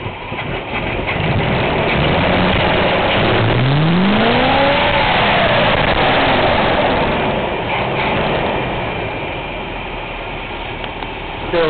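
A Chevy truck engine runs loud and steady on a cold morning, carbureted and due for a new carburetor, with a rising rev partway through before settling back to a strong, even drone.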